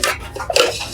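A melamine bowl handled on a thrift store shelf, a brief dull clatter and light scrape of plastic against other dishware, close and short.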